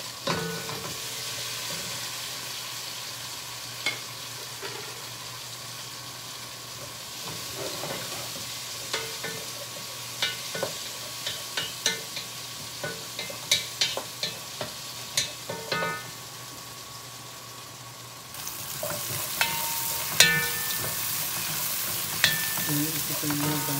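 Garlic, ginger, tomato and onion fry in a pan for a vegetable dish with coconut milk, giving a quiet, steady sizzle with scattered stirring clicks and scrapes, growing louder and brighter toward the end.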